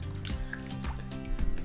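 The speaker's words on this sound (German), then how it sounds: "macht diesen voller Wasser und träufelt ihn dann über den Kopf des Babys" Water trickles and drips from a soaked washcloth over a baby's head during a bath, a few soft splashing drips landing in quick succession, close by.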